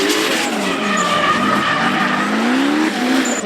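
Drift car sliding with sustained loud tire squeal and skidding, rising squeal tones over engine roar at a drifting competition, continuous and close.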